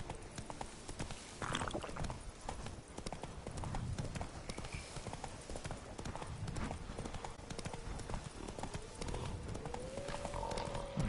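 The horse Roach trots in the Witcher 3 video game, a steady rapid clip-clop of hooves throughout at moderate volume over faint game ambience, with no talking.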